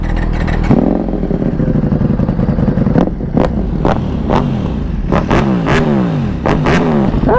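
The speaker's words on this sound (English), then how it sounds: "Sound check of the Panigale V4." A Ducati Panigale V4 motorcycle engine fitted with an Öhlins electronic steering damper idles loudly up close, then is blipped through several sharp throttle revs that rise and fall quickly, with no voices.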